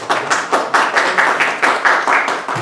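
Audience clapping at a mushaira, an Urdu poetry gathering, in New Jersey: a close, fairly loud run of rhythmic claps repeating about every quarter second, with no talk.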